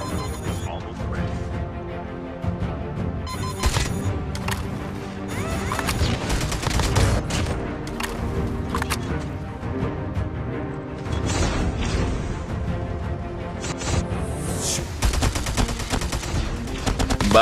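Rapid AK-47 bursts and repeated shots from a turret in a first-person shooter game, loud and dense throughout with impact crashes mixed in, the firing continuing steadily with brief lulls.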